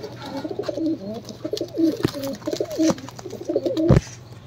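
Several pigeons coo in soft, repeated throaty phrases close by, with a couple of sharp clicks or flutters in between.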